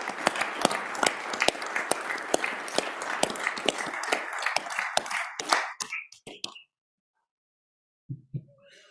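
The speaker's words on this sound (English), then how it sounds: "So if you'd give him a big round of applause." Members in a state Senate chamber applaud guests introduced during a floor session, crisp steady clapping that tapers off and stops, followed by silence and a couple of faint sounds.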